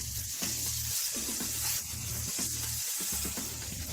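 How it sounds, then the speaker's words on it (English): Chopped tomatoes and other ingredients sauté in a frying pan for a meatball pasta dish, giving a steady broadband sizzle with low bubbling pulses throughout, close and continuous with no talking. "we immediately add them to the pan. Let all of this saute for a bit."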